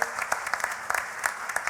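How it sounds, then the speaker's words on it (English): A conference audience at a closing ceremony gives a short round of applause for a birthday, sparse, distinct claps with a few sharper hits standing out, moderately near and without talk. "Everybody, let's give her a round of applause."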